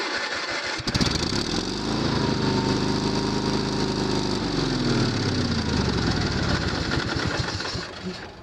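A Sears Suburban SS16 garden tractor engine cranks briefly, catches, and settles into a steady, loud mechanical running drone that continues to the end, with no talking.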